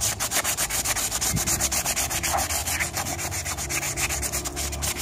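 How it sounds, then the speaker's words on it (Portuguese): Sandpaper of 320 grit is rubbed back and forth over a rusty car wheel rim, making rapid, rhythmic rasping strokes that are loud and close, with no speech. "Então a gente vai lixar geral, a roda bem lixada"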